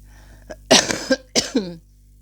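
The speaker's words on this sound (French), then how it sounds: "je vais tousser" Two close, loud coughs, each a harsh double burst, separated by a brief pause in a quiet room.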